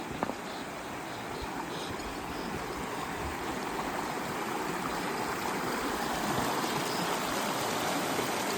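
Steady, broadband rush of a glacier-fed mountain stream on a steep high slope near Thamsar Pass, continuous and fairly loud throughout with no talking.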